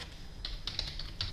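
Computer keyboard typing while entering R code, a short burst of light key clicks at an uneven pace, close and soft over a low background hum.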